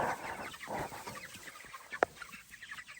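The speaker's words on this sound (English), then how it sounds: "Oh no, he scared all the chickens." Chickens clucking and squawking at a fair distance, a busy flock chattering, startled by a large dog, with one sharp louder squawk partway through.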